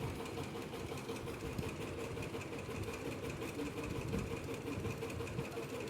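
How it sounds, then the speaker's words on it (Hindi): Sewing machine running a continuous straight seam on salwar cuffs, a steady close mechanical whir and rapid needle chatter that holds at the same level for the whole stretch, with no pauses and no voices. "हमें पोंचों में स्ट्रेट स्टिच लगानी है।"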